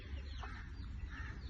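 Chicken clucking softly in a backyard, low and somewhat faint, over a steady murmur of background noise.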